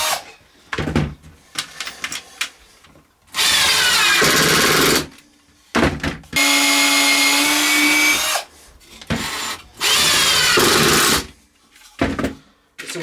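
A power drill pre-drills holes in wood for a weaving loom box, running in three loud sustained bursts of about two seconds each, separated by quieter handling knocks and shuffles.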